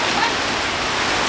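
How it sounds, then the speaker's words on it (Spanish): Heavy rain pours down outdoors, a dense, steady hiss of drops hitting surfaces, loud and close throughout the short moment. "Hoy sí se vino recia la lluvia."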